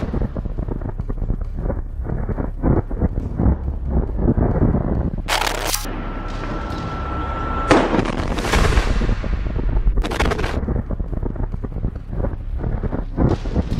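A rocket launcher attack strikes a Merkava tank, with loud, sharp blasts and booms over rough, constant wind buffeting. Two heavier bursts stand out partway through.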